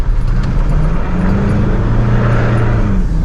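Vehicle with a Cummins 2.8 engine, its injectors newly fixed, driving slowly in low gear on a gravel road off-road; a loud, steady engine drone with rising and falling pitch and rumbling road noise throughout.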